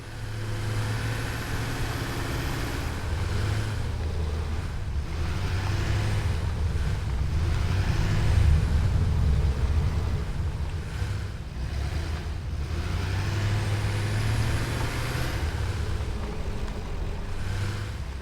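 A tractor driving in the video game Satisfactory, a steady low engine rumble with wind-like hiss that swells and eases over nearly twenty seconds, with no talking over it.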